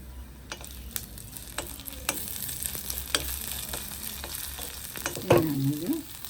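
Cumin seeds sizzling in oil for a tempering over a low flame, a soft steady crackle with sharp ticking pops and a louder scrape near the end, close by and with no talking.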